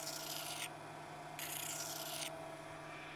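A new cutting edge is honed onto a boring tool with a sharpening stone, giving two short, close rasping strokes over a low steady hum.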